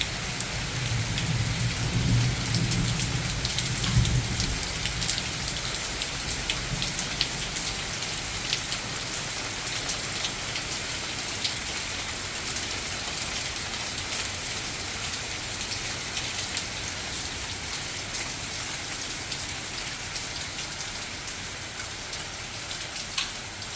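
Steady rain falls outside on a dark, overcast day, a dense, even hiss with a deeper rumble in the opening seconds, continuous throughout with no voices.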